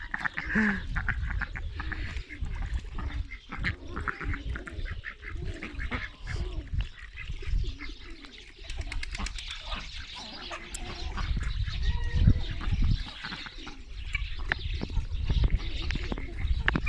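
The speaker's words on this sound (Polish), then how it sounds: "Kaczki się czubią." Ducks squabble near a pond during a morning release of backyard fowl, with bursts of harsh quacking and honking rising over a muddled farmyard background.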